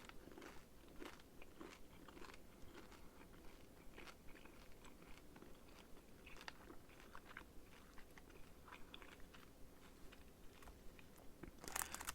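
Cinnamon chewing gum from a cold-weather MRE ration is chewed close-up, giving continuous wet, crackly chewing and crunching for several seconds, with a louder burst at the end.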